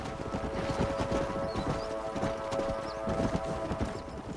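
Continuous clip-clop of horse hooves at a steady trot in the video game Red Dead Redemption, fairly close, with a faint whinny and a low hum in the background.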